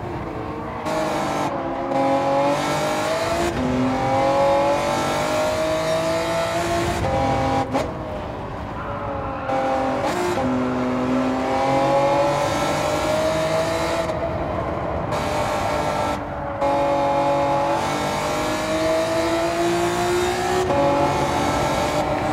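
A Honda NSX engine races in rainy conditions in Gran Turismo 7, revving high and shifting repeatedly through gears. The engine note is loud and continuous, with pitch rises and drops at each shift.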